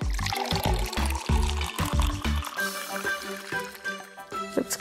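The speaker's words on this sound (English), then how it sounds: "And now we're going to add some water." Water pours into a toy baby bottle as a steady, close splashing stream whose gurgling pitch shifts as the bottle fills, continuing for several seconds.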